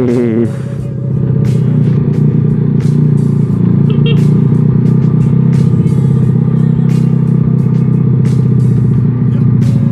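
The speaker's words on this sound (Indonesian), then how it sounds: "Apalagi kalau dipakai knalpot brong kayak gini ya" A Yamaha Jupiter Z 115cc motorcycle fitted with a CLD Racing open brong exhaust runs loud and close, a deep throbbing engine note that rises within the first second and then holds steady, with light clatter on top.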